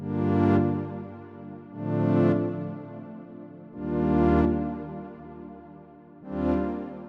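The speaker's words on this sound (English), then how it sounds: "It's called Sci-Fi Strings inside Arturia as well." Sci-Fi Strings synth preset in Arturia, four sustained swelling notes with a fast rise and slow fall, bright and textured, playing alone and loud.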